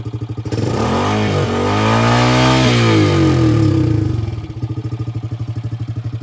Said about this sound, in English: go ahead and rev it up. I'll let him do his thing and I'll crank mine up.